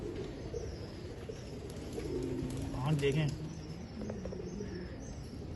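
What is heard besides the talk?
golden cross performance pigeons cooing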